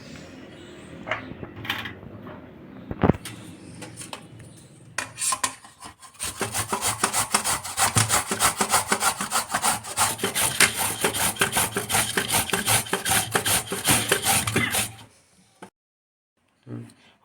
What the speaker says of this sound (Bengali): তাই কুমড়োটা গ্রেট করে নেই।